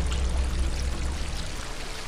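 A cat wades through shallow water in the game Stray, giving a steady splashing, pouring wash that stays close and fairly loud, fading slightly toward the end.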